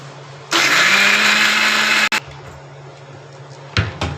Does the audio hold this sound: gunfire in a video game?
no